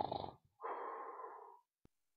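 A person imitating snoring with the voice: a short breathy burst, a pause, then one long rasping nasal snore-like exhalation, quiet and close, followed by a faint click.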